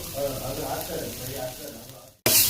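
Mutton frying in a home kitchen pan, a steady broadband sizzle and crackle under a voice, cut by a brief silence before a louder, brighter burst of hissing near the end.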